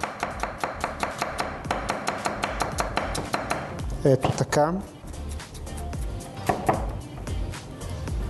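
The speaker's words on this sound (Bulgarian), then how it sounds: "Нарязвам го наситно." A knife finely chops red onion on a board in a home kitchen, giving a quick, steady run of close, crisp taps. A voice speaks briefly partway through.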